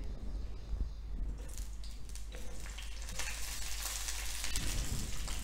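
Green chillies dropped into hot oil in an iron wok, a steady crackling sizzle that grows denser and louder toward the end, close and continuous.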